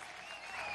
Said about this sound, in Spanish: Marisol, un aplauso a Marisol.